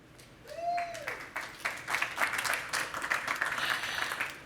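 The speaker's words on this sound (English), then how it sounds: "So thank you for the applause." An audience at a talk on systems thinking applauds steadily, a dense wash of clapping that swells and holds through the moment.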